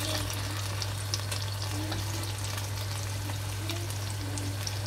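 Rice simmers in sugar syrup in a pan, giving a steady soft bubbling sizzle with faint scattered pops and a constant low hum beneath, evenly sustained throughout.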